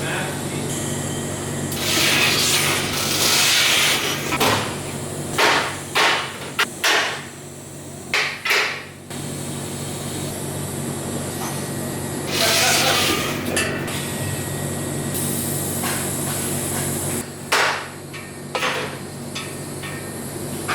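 A TIG welder tacks a scrap-metal welding cart frame, giving steady hissing arc bursts of a few seconds each, repeated many times with clicks and taps between them.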